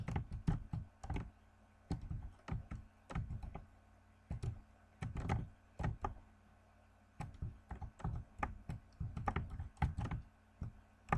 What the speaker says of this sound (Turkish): klavye sesi nasıl?